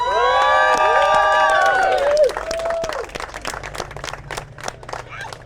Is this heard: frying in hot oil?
no